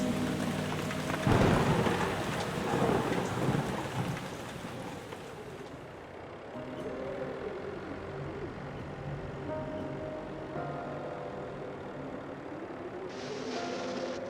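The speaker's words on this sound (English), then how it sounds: "The bad weather crossing Montana is amassing all the characteristics of an atypical storm." A video game thunderstorm over Montana rolls on with heavy, steady rain and gusting wind, a loud thunder crash early on, then a long low rumble under the constant downpour.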